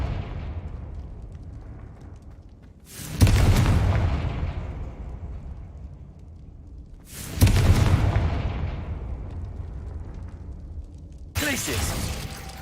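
A Confringo explosive spell is cast in Hogwarts Legacy, and three loud, booming blasts arrive a few seconds apart, each a sudden crack followed by a long rumbling decay, with the third cut short.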